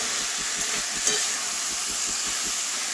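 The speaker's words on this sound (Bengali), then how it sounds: "ভালো করে একসঙ্গে কষিয়ে নিচ্ছি" Potatoes, pointed gourd and jackfruit seeds sautéed together in a pan, giving a constant close sizzle with a faint, regular stirring rhythm underneath.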